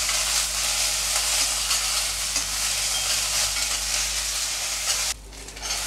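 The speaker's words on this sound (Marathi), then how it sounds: "नाही भाजले तरी चालतात पण आम्ही भाजून घेतोय" Green peas dry-roasting with a little salt in a pan for vegetable cutlets give a loud, steady sizzling rustle that fills the clip and stops abruptly near the end.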